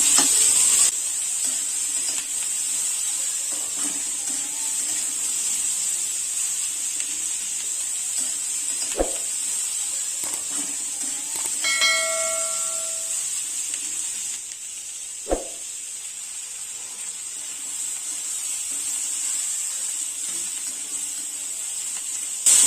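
Garlic roasts in a hot pan for Puneri misal, giving a continuous close sizzling hiss broken by two sharp utensil knocks and a brief tonal beep midway.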